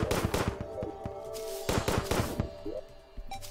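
Minishark firing in Terraria at rapid pace, a loud dense rattle of clipped gunshots in bursts over a steady game music bed, with no talking.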